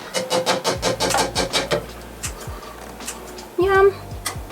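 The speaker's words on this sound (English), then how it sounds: "I just chop that up and bingo presto" A knife chops bell pepper on a board in an RV kitchen, about a dozen quick, evenly spaced thuds up close, then several slower cuts with brief clatter and a voice in between.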